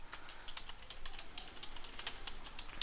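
Quiet, steady typing on a computer keyboard while writing in Microsoft Word, a run of light irregular key clicks close by over faint background hiss, with no talking.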